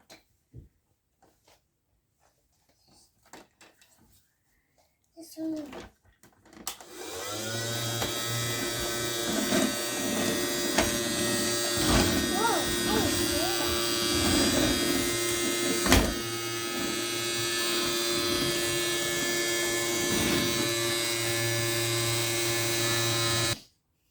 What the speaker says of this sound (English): this Hoover actually has a really cool feature because it can pick up real dirt